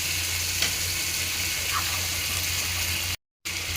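Butter sizzles steadily in a hot pan for pav bhaji, making a continuous close frying hiss with a faint stir in the middle and a brief dropout near the end.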